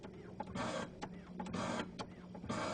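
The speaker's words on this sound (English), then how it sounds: "As we're stationary, no pump, no back axle moving, so I hand pump it." Fuel hand pump on a stationary Stanley steam car, worked by hand while the burner runs: a steady series of loud rhythmic whooshing strokes, about one every half second, close by over a constant burner hum.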